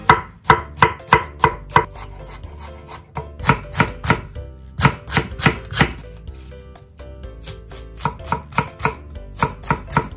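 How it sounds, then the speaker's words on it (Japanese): A knife finely mincing green onion on a cutting board for hot pot soup aromatics, with loud, close, rapid rhythmic strikes that briefly pause twice before continuing. "ネギは最初斜めに刃を入れて、また反対側を斜めに入れて、でこのように普通に刻んでいくと、もうみじん切りになっちゃいます。"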